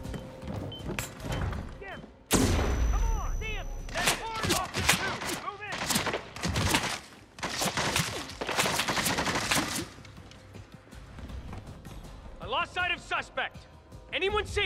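Bursts of gunfire ring out in the Hitman game, loud cracks and rapid volleys arriving in clusters between shouting voices of players calling out to one another.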